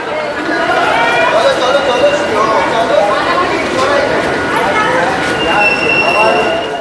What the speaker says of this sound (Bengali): ট্রেনটা কিন্তু এইমাত্র ঢুকলো